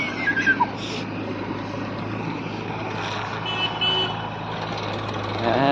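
A tractor engine rumbles steadily while a reversing alarm beeps repeatedly, loud and close, with a few higher tones over the droning motor.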